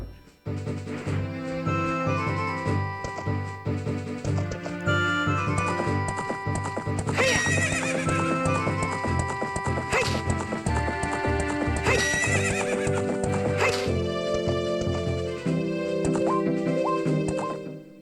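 Horse sounds from the Zelda: Ocarina of Time 3D video game: repeated clip-clop hoofbeats and whinnying neighs set against the game's layered music, running loud and continuous for eighteen seconds.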